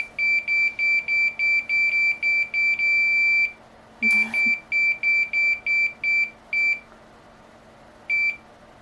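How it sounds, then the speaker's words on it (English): A new machine for making Etsy products emits a rapid run of short, high electronic beeps while being set to heat, a long tone, then more beeps, spacing out and ending with a single late beep. "Sorry for all the beeping"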